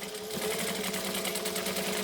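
Sewing machine stitching a garment seam at a 2.5 stitch length, a steady, fast mechanical whir with fine rapid needle ticks running evenly and close throughout, with no voices.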